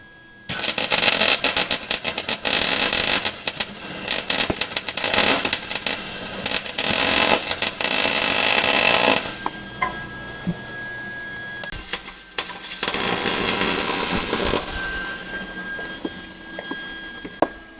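A welder crackles and buzzes while fusing a fuel cell mount underneath a 1953 Ford F100 4x4, loud and close in long sputtering bursts that stop and restart with short quiet pauses.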